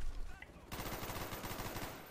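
Helicopter gunfire in an online multiplayer first-person shooter video game: a steady, rapid rattle of automatic shots starting abruptly and continuing to the end, moderately loud, over faint background noise.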